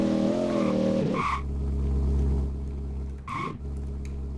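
A BMW in a video game drives along with a steady engine drone, briefly revving higher twice with short tire squeals, the motor holding a low hum between bursts; no one speaks.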